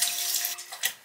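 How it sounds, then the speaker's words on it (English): Lukewarm tap water runs steadily from a faucet into a sink during a face rinse, a close, continuous splashing flow that thins and breaks up toward the end. "It's time to rinse off with lukewarm water."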